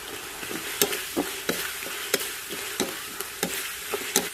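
Chicken with cashew nuts stir-fried in a pan with ginger and fried chilies, a steady sizzle broken by regular sharp scrapes and clacks of a utensil against the pan, close and fairly loud.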